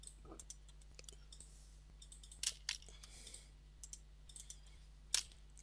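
Computer mouse clicking while editing a presentation in Google Drive: faint, sharp single clicks scattered irregularly over a quiet hum, a few slightly louder than the rest, with no talking.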